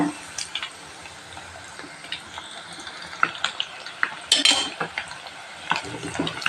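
Chicken 65 deep-fries on a medium flame with a soft bubbling sizzle, broken by scattered clinks and scrapes of a utensil against the pan and a brief louder rattle near the middle.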